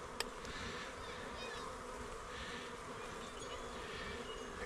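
Honey bees from packages shipped from California swarm around backyard hives during installation, a dense, steady, close buzzing that fills the whole stretch with no pauses.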